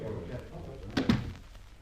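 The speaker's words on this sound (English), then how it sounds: "Barbara, shut the door." A door shut indoors with a quick double thunk, moderately close, following a spoken line and with faint voices around it.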